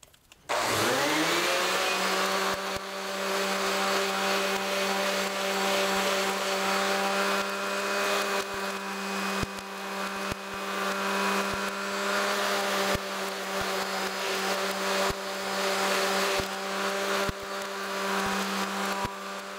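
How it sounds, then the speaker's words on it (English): A power sander spins up and runs continuously on the edges of a whiskey barrel stave board, a loud steady whine with a strong hum and periodic light ticks as it works along the wood. "Okay, everything's sanded up."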